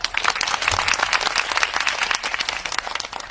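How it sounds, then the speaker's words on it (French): A crowd of football fans in a lively gathering after a draw against Portugal claps together in dense, continuous applause, close and loud, lasting throughout. "Vous avez joué ballon, on applaudit pour vous"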